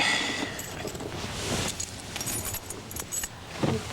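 A set of keys jangles and rattles repeatedly at close range, with faint traffic noise in the background.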